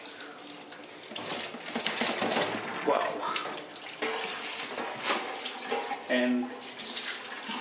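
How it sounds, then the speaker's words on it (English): Tap water running through a wort chiller during a brew-in-a-bag Cascade SMaSH beer brew gives a steady rushing, splashing flow that continues throughout, with a brief spoken word over it. "So we've got the water starting to come through."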